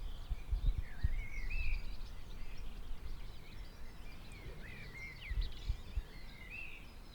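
Bird singing outdoors: faint, repeated warbling phrases that rise and fall, spaced a few seconds apart, over a quiet low rumble of background noise.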